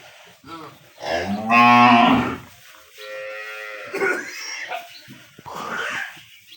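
Several Holstein Friesian cows moo in turn, loud and close, with long low drawn-out calls separated by brief pauses.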